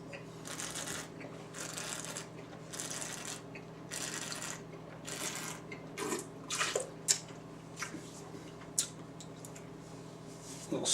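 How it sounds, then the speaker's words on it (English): Wine spat into a tasting bucket, giving a few short liquid splashes and spatters near the end over a steady background hum, with earlier broadband bursts. "A little splash action going on there."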